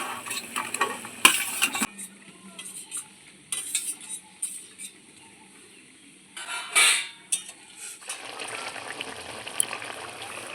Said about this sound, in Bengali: ঝোল ফুটে উঠেছে, আমি এবারে একে একে মাছের ডিমের বড়াগুলো ঝোলেতে দিয়ে দেব।